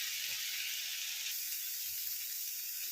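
Mashed beetroot stir-fries in a pan, giving a soft, steady hiss of sizzling that stays faint and even with no talking.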